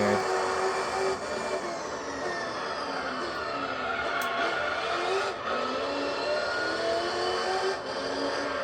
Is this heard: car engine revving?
yes